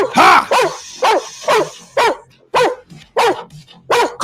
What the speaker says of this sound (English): He has a great barking hold.